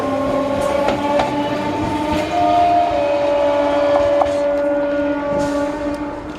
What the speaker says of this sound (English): Train gone.